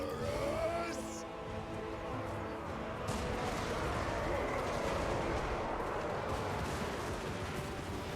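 Soldiers shooting in a video game battle produce a dense, continuous crackle of gunfire and distant booming blasts, steady and fairly loud throughout.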